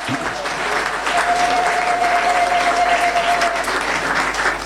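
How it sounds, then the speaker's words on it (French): A church audience applauds the Notre-Dame du Mont Carmel choir at a jubilee thanksgiving service, steady dense clapping held loud and close throughout, with a faint sustained tone running through the middle. "nous allons secouer nos mains, nos bras pour acclamer encore les choristes."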